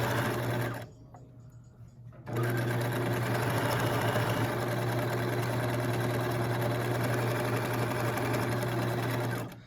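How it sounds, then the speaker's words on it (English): A sewing machine runs steadily, stitching long gathering and basting rows along a seam in a romper, a loud continuous motor hum with a short pause near the start before the stitching resumes. "Make sure when you are sewing your gather stitching, the basting stitching, that you do not intersect the previous stitching."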